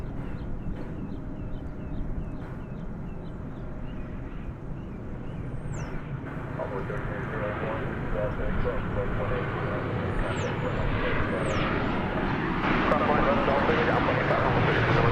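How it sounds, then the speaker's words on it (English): An American Airlines Boeing 737-800 arriving from El Paso at DFW Airport roars in as a broad, rising jet rumble that swells toward the end, with a commentator talking throughout and faint birdsong. "An aircraft coming in from El Paso, Texas. It's another 737-800 American Airlines flight 1091."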